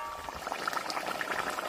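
Water bubbling and simmering in a pot over an outdoor riverside fire, with spiced masala for rohu fish curry, a steady close bubbling hiss with no talk.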